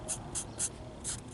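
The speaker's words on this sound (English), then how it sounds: "I'm going to mark all these trims so I don't have to worry about" A marker writing labels on car trim pieces from a flood-damaged 2004 Toyota Prius, four short, faint squeaking strokes in a quick uneven rhythm, close up with no talking.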